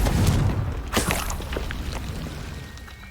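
A Confringo fire spell bursts in the video game Hogwarts Legacy, a sharp booming blast that rings out briefly before trailing into a fading rumble, with no voices heard.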